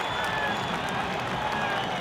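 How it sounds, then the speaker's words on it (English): A large football stadium crowd at a Premiership match between Cape Town City and Mamelodi Sundowns, a dense, continuous roar of cheering that stays loud and even throughout, heard at a distance. "The crowd love that."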